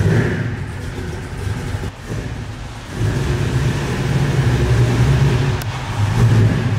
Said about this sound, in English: we're gonna go for a drive in the Cuda right now